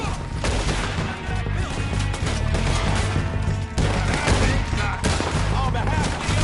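Heavy gunfire during a shootout with O'Driscoll gang members in Red Dead Redemption 2, loud overlapping shots and crashes crowding the whole stretch, with voices shouting under the din.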